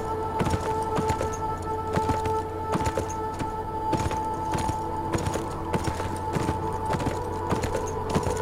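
Horse hooves clip-clop in a steady galloping rhythm as a character rides through the video game Beyond: Two Souls, with the repeated hoofbeats close and even over a constant low hum.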